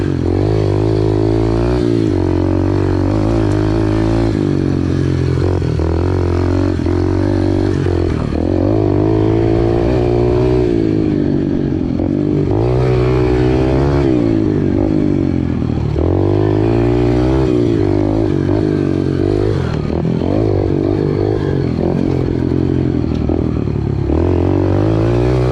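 A Yamaha TTR pit bike runs continuously close by, its small single-cylinder engine revving up and down in repeated surges as it is ridden, loud and alone without talk.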